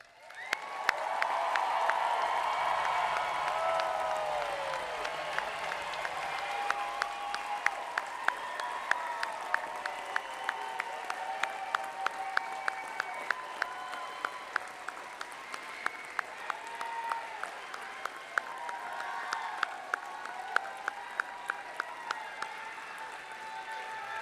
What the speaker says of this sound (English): please join me in applauding the achievements of these graduates